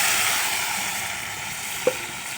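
Fennel seeds and onions sizzle in oil in a clay pot, giving a steady close hiss with one brief sharp pop near the end.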